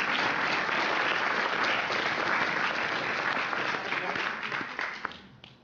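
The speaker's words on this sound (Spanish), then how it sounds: "Fuertes y calurosos aplausos para el doctor." A hall audience gives sustained, warm applause for a doctor receiving a scientific merit award at a university ceremony, the clapping steady and full before tapering off at the end.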